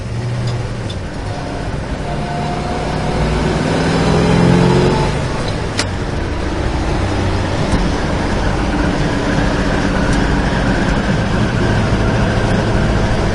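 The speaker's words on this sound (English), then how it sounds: "Nice smooth running car." A 1968 Chevrolet Chevelle engine hums steadily while driving, with a rise in revs partway through and continuous road noise, heard from inside the car.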